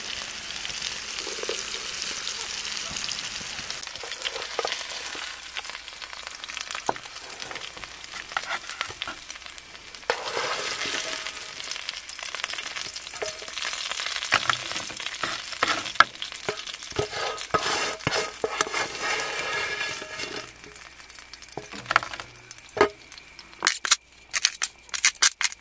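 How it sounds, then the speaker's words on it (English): Steak and potatoes fry in a pan at a creekside campsite on a sheep station, with a continuous sizzle and crackle, irregular scraping stirs and sharp clicks, close and moderately loud, with no voices. "So I reckon I'll just finish off that steak in the pan."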